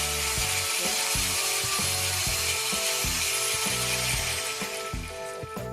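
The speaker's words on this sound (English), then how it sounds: "Now the grinder is working." Angle grinder running through a DIY speed controller, a loud continuous whine with a rapid rhythmic pulsing chatter throughout, close and steady.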